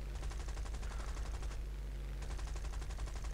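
Aircraft guns in War Thunder fire in two rapid, sustained bursts separated by a brief pause, loud and steady with a low engine drone underneath.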